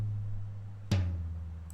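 A single tom drum hit from a stereo-recorded drum track lands with a sharp, punchy attack and a deep, ringing decay, over a low sustained rumble from earlier drum resonance. No voices.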